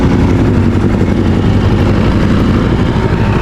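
Motorcycle engine running on a winding zigzag mountain road, a loud, close, continuous low rumble with no break.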